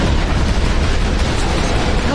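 Covenant forces blow up escaping life pods aboard a starship in Halo, heard as a dense, continuous roar of overlapping explosions, loud and close, with no letup across the moment.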